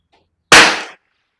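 A single sharp, loud report from a Springfield 2020 rimfire rifle with a stiffened stock, firing once and decaying quickly into silence.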